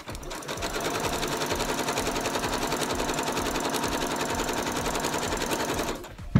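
A sewing machine stitching a seam on a fabric top, running steadily with a rapid, even mechanical rattle for about six seconds before stopping.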